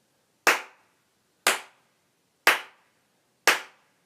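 Four sharp, bright hand claps, evenly spaced about a second apart, each a crisp high-pitched slap with a quick decay, alone with no voices.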